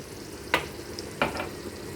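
Urad dal hits hot oil while tempering a tomato and okra chutney, giving a steady soft sizzle broken by two brief louder crackles as the lentils settle, close by and without speech.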